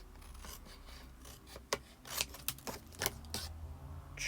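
Scissors snipping through card for a double pocket fold card project: a run of sharp, irregular cuts and rasping blade strokes, close and moderately loud, with no talking.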